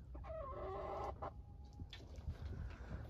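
Chickens cluck nearby in short, quiet bursts, one drawn-out call followed by scattered softer clucks against low background noise.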